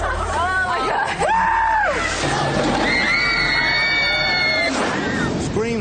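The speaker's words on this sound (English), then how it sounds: "Screams are a great sign on thrill rides." Riders on a thrill ride scream loudly and continuously in rising and falling wails, with crowd shouting and babble mixed in close by.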